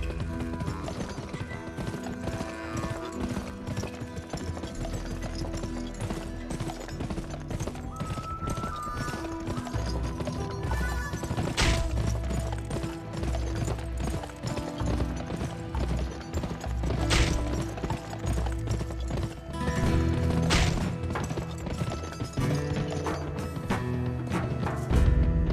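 Rapid clip-clop of galloping horse hooves in a race in the video game GUN, over steady background music, with an occasional whinny, continuous and fairly loud throughout.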